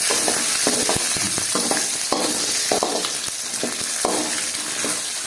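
Coriander and cumin seeds dry-roasting in a pan, a dense crackling sizzle with frequent sharp scrapes and ticks from stirring, close and steady throughout with no voices.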